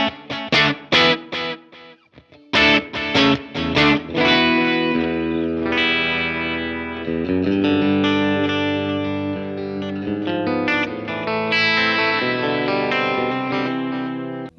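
An electric guitar played through a Fender Mustang Micro headphone amp with tape delay and reverb rings out in plucked notes and chords, with echoing repeats and a lingering wash of reverb throughout.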